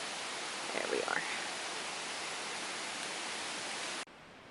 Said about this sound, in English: Can you hear that water in the background?